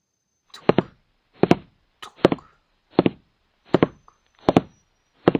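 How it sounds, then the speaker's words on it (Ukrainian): Footsteps on a hard floor in a room, about seven distinct, evenly paced heavy steps, close and clear against near silence. "І тут вона почула кроки."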